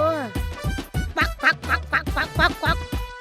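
A duck toy squeaks out a rapid series of nasal quacks in a steady rhythm, close and clear.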